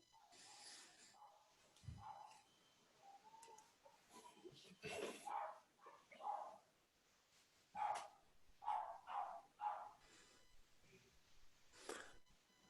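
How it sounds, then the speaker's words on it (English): A hungry dog barking in the background of a home during an online committee meeting, a series of faint, distant yips and barks spread irregularly over several seconds, with occasional low voices. "And someone has a hungry dog."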